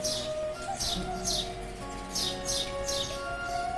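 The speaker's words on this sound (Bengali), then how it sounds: "আর পাখির দেখো কিচিরমিচির দেখো" Repeated bright bird chirps in short bursts, roughly every half second to second, over a steady low background hum, heard from a balcony under a cloudy sky.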